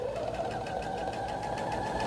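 A sewing machine stitching crazy-quilt fabric in quilt-as-you-go work, running steadily with a rapid, even needle rhythm throughout, close and moderately loud with no talking.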